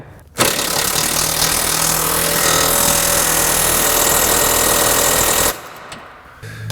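An impact wrench fitted with a torque stick tightens the wheel lug nuts on a 1998 Mazda 626. The rattling hammering is loud, close and unbroken for about five seconds, then drops away to quieter background noise.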